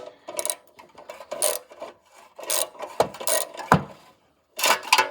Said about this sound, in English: Let me try a ratchet.